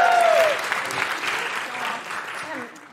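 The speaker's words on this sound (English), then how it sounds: "Big round of applause for Phoenix" Live audience applause for a volunteer named Phoenix at a comedy podcast recording, a dense burst of clapping that starts loud with a brief voice over it and gradually fades over a few seconds.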